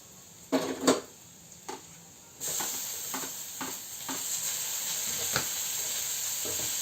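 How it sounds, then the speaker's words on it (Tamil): Chopped tomatoes hitting a hot pan of chicken gravy: a couple of sharp clunks and taps, then a sudden loud, steady sizzle that hisses on under occasional stirring scrapes. "இப்போ நம்ம அரிஞ்சு வச்சுருக்க தக்காளியை வந்து உள்ளே போட்டுக்கலாம்"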